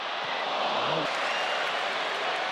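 Stadium crowd at an Arsenal versus Villarreal friendly breaks into a broad, even round of applause, a dense wash of distant clapping and crowd noise with a commentator's voice over it.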